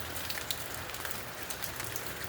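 Rain falls steadily on a surface nearby, a dense, even patter of drops with scattered louder taps and no voices.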